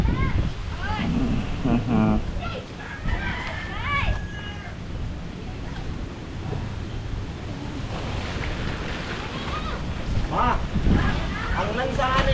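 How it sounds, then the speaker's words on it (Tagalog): Strong wind roaring and buffeting the microphone, steady and loud throughout, while people talk underneath. "Malakas lang talaga ng hangin."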